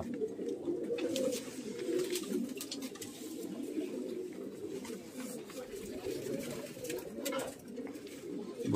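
A continuous low cooing of several pigeons in a pigeon house in Delhi fills the clip, soft and steady, with faint voices in the background.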